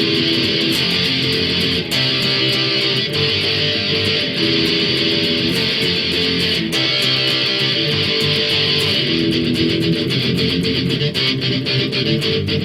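Loud, distorted electric guitar strumming a driving punk chorus of a song, dense and continuous with fast rhythmic attacks throughout.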